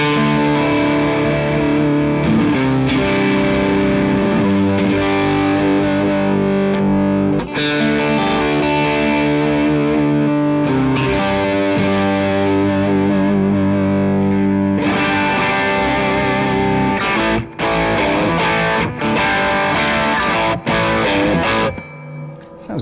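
An American Professional Fender Jaguar or Jazzmaster electric guitar played through a Plimsoll gain pedal, loud and continuously driven with thick chorded distortion, shifting chords and a few choppy stops near the end, no talk.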